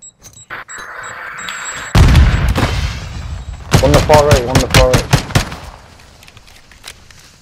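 Gunfire in Call of Duty: Modern Warfare 2 multiplayer, a burst of shots mid-clip followed by a rapid automatic string, with voices talking over parts of it.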